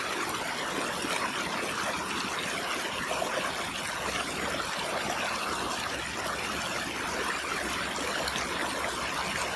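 Water runs through a Katadyn BeFree 0.6 L water filter, a soft continuous trickle and splash that stays fairly faint and even from start to finish.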